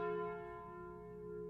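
A bell relic rings in Slay the Spire, a single clear struck bell tone with bright harmonics that hums and slowly decays, sounding alone and fairly soft.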